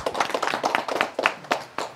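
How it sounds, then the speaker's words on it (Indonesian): An outdoor audience at a live event in the pine hills of Malino claps in a loose burst of sharp, uneven hand claps, close and moderately loud, with no talking over it. "Nah, tepuk tangan ya."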